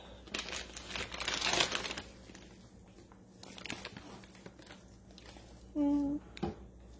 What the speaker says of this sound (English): I'm just going to dump my veg